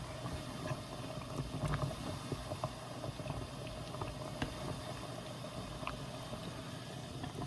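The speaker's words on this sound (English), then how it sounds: "so it's boiling really good" Water bubbles and boils vigorously in a pot of mini hot dogs (little smokies), a steady rolling gurgle with small pops, close and fairly quiet.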